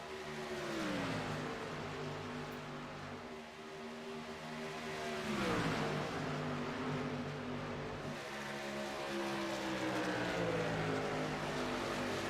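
Several racing trucks run close together in a sim racing game's truck series pack, their engines droning in layered harmonies that drop and rise as they shift and swell past, steady and loud throughout with no talk.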